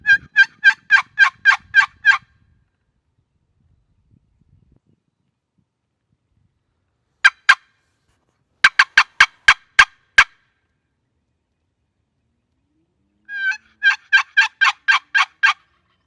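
A wild turkey gobbles in reply to a hunter's call during a spring turkey hunt, several loud rapid gobble bursts at the start, a few sharp isolated calls mid-clip, then another full gobble near the end, with quiet between and no talk.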